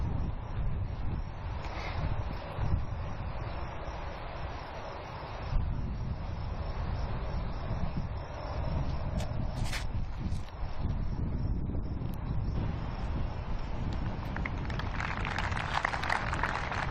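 Gusty wind sweeps across an outdoor disc golf course, a steady roaring buffet on the microphone that rises and falls over the whole stretch with faint rustling beneath.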